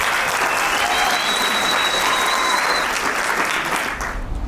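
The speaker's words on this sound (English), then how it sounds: "you need to give yourselves a round of applause" Sustained audience applause at a summit, dense steady clapping across the whole stretch before it tapers off at the very end.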